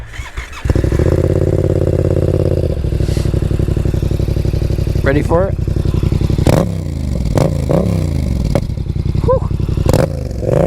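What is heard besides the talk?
Yamaha XSR700 motorcycle engine with Black Widow full system exhaust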